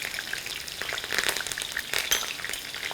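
Curry leaves crackling and sizzling in hot oil for khara bath, a dense bright spitting hiss with quick pops, close up and without talk.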